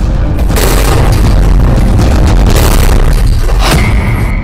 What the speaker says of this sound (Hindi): पेजर धमाकों से दहला लेबनान।